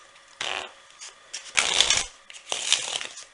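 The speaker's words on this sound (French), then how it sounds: "Alors tu peux mélanger ton paquet" A deck of ordinary playing cards is shuffled in three separate riffle bursts, each a crisp, close rattling flutter lasting about half a second, separated by short pauses.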